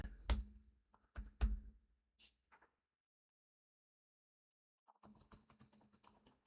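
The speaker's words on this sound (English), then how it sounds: "echo insanely loud typing" A few sharp keyboard key clicks up close, then a pause of silence, followed by a burst of rapid typing.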